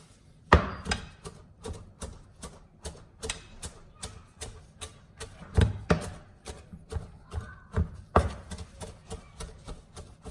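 Fresh coriander being chopped into small pieces with a knife on a board, a steady run of close, crisp taps, some sharper and louder than others, with no voices.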